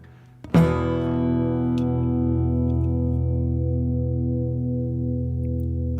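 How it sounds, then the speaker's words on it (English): A single strummed guitar chord rings out and sustains, rich with distorted overtones and slowly fading, with no talking. "this guitar is ringing so nice tonight"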